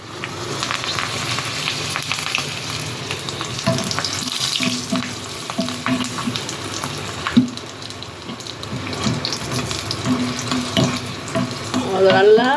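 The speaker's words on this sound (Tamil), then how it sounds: "இதை நம்ம எண்ணெயில் போட்டு எடுத்துடலாம்." Sun-dried buttermilk chillies frying in oil over a low flame, a busy crackling sizzle with scattered pops and spatters, close and fairly loud, with a faint watery hiss rising near the end.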